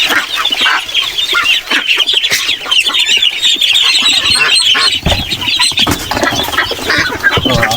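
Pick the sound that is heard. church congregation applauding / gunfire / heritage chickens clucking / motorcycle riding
heritage chickens clucking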